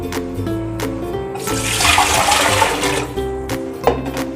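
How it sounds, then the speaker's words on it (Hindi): Water poured into a pressure cooker while preparing steamed mutton, a steady splashing pour that swells in the middle and eases off, with a soft clink near the end and no talking. "उसके लिए हम सबसे पहले कुकर में पानी लेंगे।"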